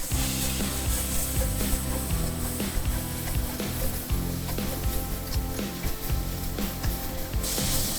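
Diced chicken stir-fried in a wok with a little light soy sauce, hissing and sizzling loudly with repeated scraping and tossing strokes of the spatula, close up and continuous.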